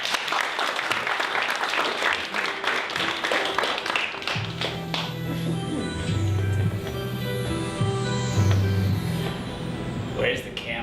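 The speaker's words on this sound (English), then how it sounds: "Slap that applause button." Applause sound effect triggered from a button during a live improvised true-crime podcast show: a dense crackle of clapping followed by brighter tonal flourishes, with people talking over it.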